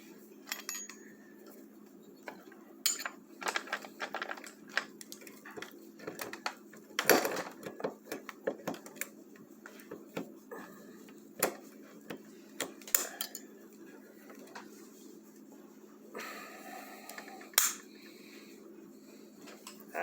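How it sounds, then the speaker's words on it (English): Small metallic clicks, ticks and clinks come at irregular intervals as a Type 54 Tokarev pistol is field stripped by hand, fairly faint and close against a quiet room. "Now we will field strip the Type 54."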